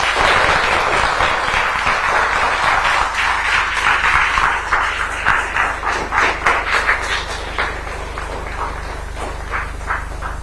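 Audience applause from a crowd at a public gathering, with dense loud clapping that swells for several seconds and then slowly thins and fades.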